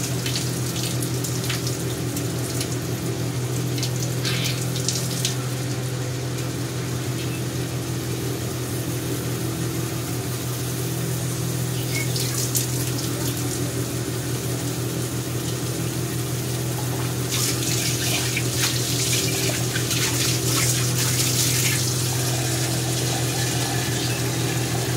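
Water is poured over moth beans in a bowl and swirled by hand, a continuous splashing, running-water wash with a steady low hum underneath, fairly close and unbroken throughout.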